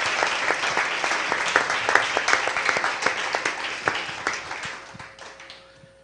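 A church congregation claps for the Lord mid-sermon, loud and close at first, with sharp individual claps in the dense applause before it gradually thins and fades toward the end.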